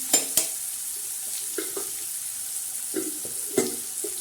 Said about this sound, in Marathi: तर छान असं हे मस्त असं परतत आहे.